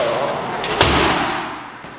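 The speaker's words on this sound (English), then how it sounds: "let's move the doors around" Closet doors being slid and moved in an apartment, a single loud thump with a rattling slide and rumble, close by, under a spoken voice.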